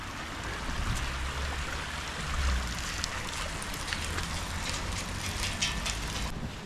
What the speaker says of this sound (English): it's just like a waterfall here.